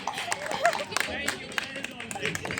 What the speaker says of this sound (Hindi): एग्जैक्टली इनके लिए जोरदार तालियां।